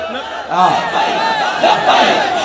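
A large crowd at a religious sermon chants slogans in unison, a loud, rhythmic massed roar of voices rising and falling in repeated waves.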